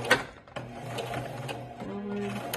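A sewing machine stitches a fabric bunny in short bursts, stopping and starting for a few stitches and a backstitch, with light mechanical clicks between runs at close range.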